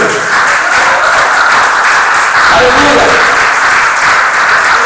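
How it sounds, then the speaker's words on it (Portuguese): A church congregation applauds loudly and continuously, a dense wash of clapping that fills the space, while a pastor's voice briefly speaks over it. "Vamos aplaudir esse Deus poderoso"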